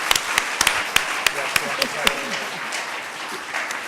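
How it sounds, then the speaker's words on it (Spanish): Lecture-hall audience applauding a guest at a tribute event, a dense wash of clapping from a crowd with a few sharper nearby claps, steady for several seconds with talk mixed in. "Les pido un aplauso también para nuestro invitado."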